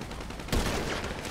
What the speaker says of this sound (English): Oh, this isn't the right sniper.